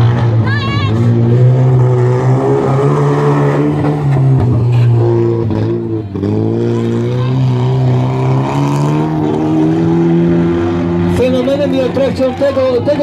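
Wreck race cars roar around a dirt track at a demolition-style event, engines droning and revving loudly and continuously, with a commentator talking over the din throughout.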